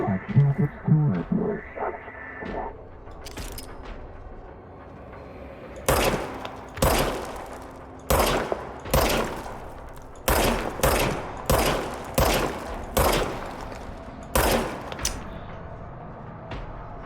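Gunfire from a pistol in the video game Control rings out as a string of sharp single shots, spaced irregularly and fairly loud, over a low in-game hum with no talking.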